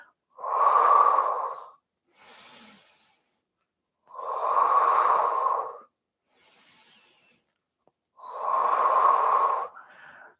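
Slow, deliberate breaths during a Pilates back extension exercise at home: three long, loud, close exhales spaced evenly apart, each trailed by a softer, quieter inhale.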